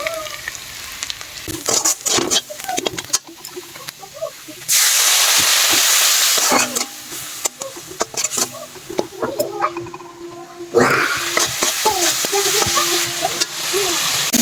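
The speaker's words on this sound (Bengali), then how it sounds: "ভালোভাবে কষানো হয়ে যাচ্ছে এটাকে লো ফ্লেমে করে দিয়েছি" Spices and vegetables sauté in a pan on low flame with an intermittent hissing sizzle that swells in two louder stretches, mixed with spatula stirring and scraping clatter, close by.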